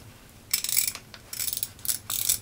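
A small 1/4 inch hand ratchet clicks in three quick bursts of dense, close, crisp ticking, separated by short pauses, with no voices over it.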